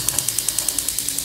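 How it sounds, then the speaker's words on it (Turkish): A gas stove burner clicks as its igniter sparks, a steady series of about a dozen sharp ticks evenly spaced and close, with no talking over them. "Şöyle altını açayım."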